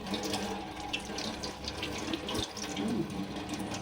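Tap water runs steadily into a kitchen sink while raw chicken is rinsed for biryani, a continuous close splash with small clatters and shifts as the pieces are handled.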